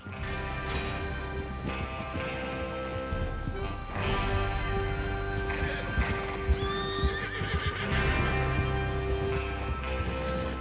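Horses galloping in the video game Red Dead Redemption 2, rhythmic hoofbeats with several loud whinnies rising over the hooves, set against a steady musical score.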